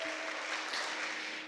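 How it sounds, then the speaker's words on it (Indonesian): Applause in a church service, a short, faint, steady wash of clapping from a congregation, distant and continuous for a moment. "Tepuk tangan lagi Tuhan Yesus"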